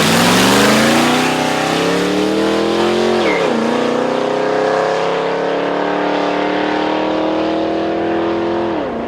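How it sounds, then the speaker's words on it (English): A 2016 Dodge Challenger Hellcat's powerful engine roars loudly and climbs in pitch as it accelerates hard down a track, with a brief shift partway through before it keeps pulling up again. "when this truck takes off, the earth shakes."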